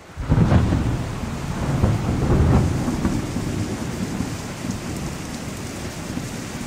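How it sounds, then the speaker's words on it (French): A thunderstorm breaks with deep rolling thunder over steady heavy rain, the low rumbles swelling twice near the start before settling into a continuous downpour with no voices. "Tout à coup, un orage éclata."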